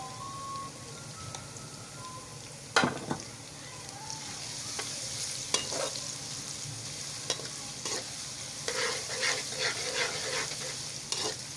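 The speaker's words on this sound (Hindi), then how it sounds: "अब इसमें हम ये चॉप किया हुआ अदरक लहसुन डाल देंगे।" Chopped ginger and garlic fry with lightly browned onions in a pan, giving a soft, continuous sizzle broken by occasional sharp clinks and scrapes of stirring.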